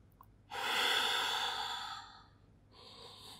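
Heavy, audible breath after an advanced Pilates exercise at home: one long, loud exhale lasting about a second and a half, then a softer breath, close and alone with no talk.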